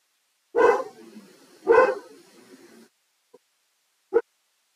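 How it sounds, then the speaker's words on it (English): A dog barks twice nearby in sharp, loud bursts, then gives a tiny yip and one more short bark after a quiet pause, heard indoors as background noise. "the doggy was barking."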